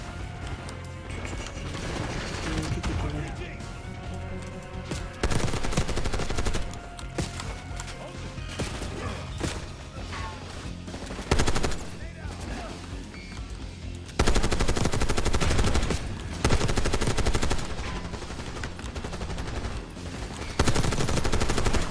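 A light machine gun firing in Call of Duty Black Ops 6, with repeated loud automatic bursts and sharp single cracks across the stretch, surges of heavy fire between short lulls.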